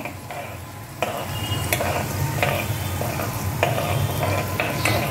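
Chana dal and urad dal fry in hot oil in a pan for an evening puli pongal tiffin, a steady close sizzle broken by repeated scraping stirs of a ladle at a loose rhythm.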